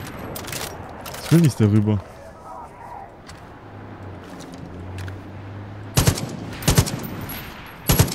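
Gunfire in a GoldenEye 007 mod played in co-op in Far Cry 5 sounds as sharp, close shots in short bursts near the end, with faint crackling earlier and people talking over it.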